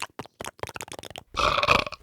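A long, loud belch erupts up close after a burst of quick, clicky mouth noises, rumbling steadily for most of a second before trailing off.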